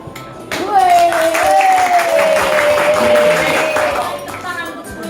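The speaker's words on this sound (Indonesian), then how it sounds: "Tepuk tangan untuk 10 C dulu." Classroom applause for a high school class presentation, many hands clapping steadily for several seconds while a voice speaks over it.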